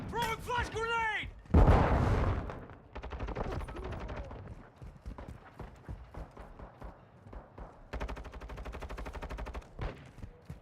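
A loud flash grenade bang bursts out in a shooter video game, surrounded by rapid bursts of gunfire that come and go in quick clusters.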